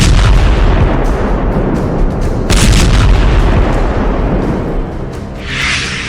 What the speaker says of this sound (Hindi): एंटी एयरक्राफ्ट सिस्टम S-300 से रूस ने खार्किव और ओडेसा में धमाके किए हैं।